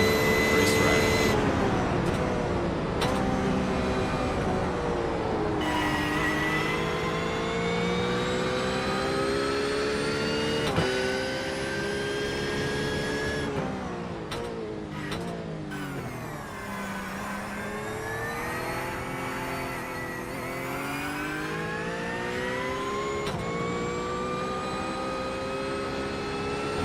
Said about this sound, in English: Jensen as he wheels his Porsche 911 around a slick, wet Silverstone racetrack